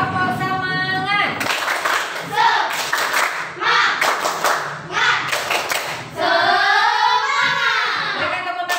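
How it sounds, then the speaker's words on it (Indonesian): Schoolchildren in an elementary classroom clap together in bursts of rhythmic hand claps, close and loud, with a teacher's voice and children's chatter between and over the claps. "Berikan tepuk tangan untuk semua."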